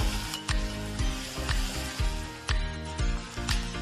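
Garlic and ginger frying in a hot pan for prawn thokku, a steady sizzle broken by periodic scraping knocks of a spoon stirring, close and fairly loud with no talking.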